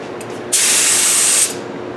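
A short, loud burst of pressurized spray hisses from an activator spray gun set at about 30 pounds, lasting about a second against a quiet background.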